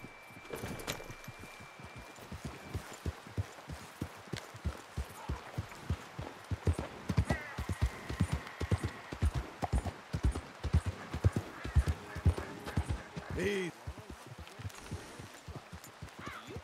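Hooves of an Orlov Trotter draft horse in Red Dead Redemption 2 clip-clop in a steady, continuous trotting rhythm, fairly close, with brief scattered game noises and a short snort partway through.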